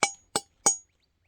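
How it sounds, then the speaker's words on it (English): Three sharp hammer strikes on a chunk of vein rock being crushed for panning, each a bright clinking crack with a short ring-out, evenly spaced about a third of a second apart, close and alone. "Gonna crush it up, pan it real quick."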